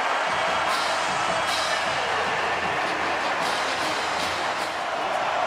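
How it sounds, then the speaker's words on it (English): A college football stadium crowd at Clemson roars in a sustained, loud, dense wall of noise during a 2023 Clemson vs Miami game, steady throughout without clear voices. "Crowd roaring here at Clemson"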